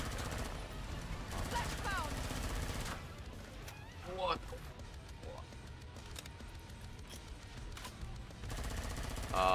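Video game gunfire cracks in rapid bursts, layered under talk and a dense wash of game noise, with short pauses between volleys.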